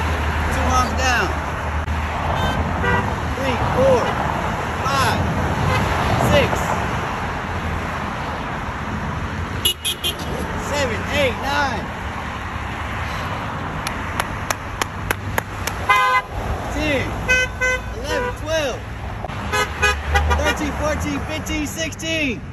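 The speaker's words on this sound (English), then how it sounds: "We got 16 honks, people, out of 21." A car horn honks in rapid repeated bursts over road noise, with people talking and shouting throughout.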